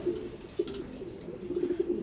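Pigeons coo softly close by, a few low, repeated coos over a quiet background.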